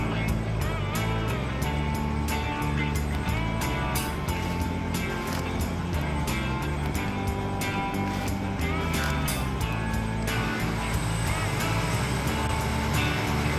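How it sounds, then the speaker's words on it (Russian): A helicopter idles before takeoff near Teriberka on the Arctic Ocean coast, giving a continuous, fairly loud, close engine and rotor drone with steady tonal hum and occasional faint bumps throughout. "Звук такой, как будто бы сейчас вертолет слетит."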